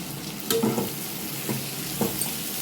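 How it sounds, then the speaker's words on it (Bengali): Potatoes and pumpkin frying in a pan give a steady, close sizzle, with a few brief stirring clatters and scrapes on top. "এই আলু আর কুমড়ো ভাজা ভাজা হয়ে যাবে, আমি তখন ক্যাপসিকামটা দিয়ে নেব"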